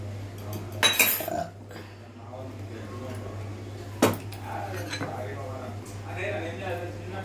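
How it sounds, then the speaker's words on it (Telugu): Ice cubes drop into a glass of apple sharbat, making two distinct clinks about three seconds apart over a low steady hum. A voice talks nearby. "ఇగో ఇలా కూడా ఐస్ వేద్దామండి."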